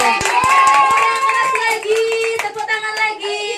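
Clapping at a children's birthday party, scattered hand claps under lively chatter and a voice singing or calling out, with tonal voices dominating over the sparse claps.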